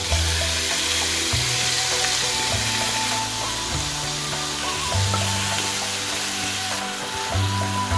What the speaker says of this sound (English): Now that the pan is beginning to sizzle, I'm going to be adding in the chicken breasts.